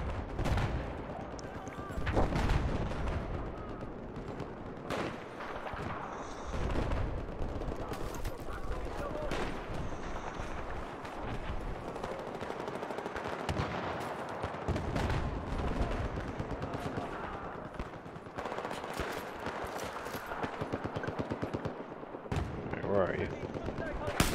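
Gunfire in the video game Battlefield 4, repeated sharp shots and bursts scattered throughout, mixed with steady game noise and someone talking over it.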